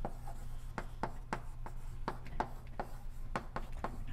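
Marker or chalk strokes on a board while a theorem on a nonlocal reaction-diffusion equation is written out during a math lecture, a steady series of sharp scratchy taps and short rubs at close range over low room hum.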